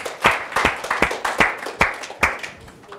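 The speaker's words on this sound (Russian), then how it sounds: "Аплодисменты участникам." A small lecture audience claps briefly for participants, sharp irregular hand claps close by that taper off after a few seconds.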